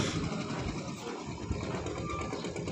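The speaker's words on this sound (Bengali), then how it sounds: "এই ট্রলারটি যাচ্ছে মাছ ধরার উদ্দেশ্যে, ইলিশ মাছ ধরবে জাল নিয়ে।" A fishing trawler heading out for hilsa on the Padma river gives a faint, steady low engine hum with water and boat noise, continuous and distant-sounding, no voices.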